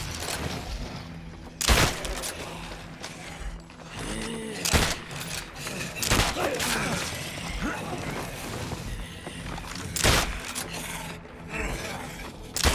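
Rifle gunfire in the video game State of Decay 2: a few sharp, loud shots spaced several seconds apart, with mechanical clicking and ratcheting of single rounds being loaded between them.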